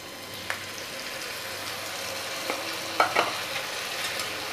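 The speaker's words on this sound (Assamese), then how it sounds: "এইখিনিও অকণমান ভাজি ল'ম, নহৰুৰ কেঁচা গোন্ধটো যোৱালৈকে।" Low, steady sizzling of garlic spice paste frying in a pan with browned onions, with a few faint clinks of stirring.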